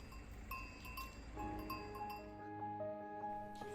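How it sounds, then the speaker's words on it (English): Cowbells worn by grazing cows in the Alpine mountains around Mont Blanc, several bells clanking irregularly at a moderate distance with steady outdoor ambience and no talk. "we went for a little walk and saw, and heard, cows with bells on them"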